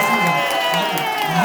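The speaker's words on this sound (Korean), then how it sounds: "이때 함성을 지르면서 박수를 치는 거예요." A crowd at a Seoul political press conference for a district mayoral candidate cheers and claps, a steady dense roar with whoops rising over continuous voices throughout.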